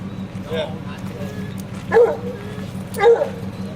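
Hunting dogs bark at a bear treed during a hunt, loud sharp barks around two and three seconds over a steady low rumble, with yips and whimpers between and people talking nearby.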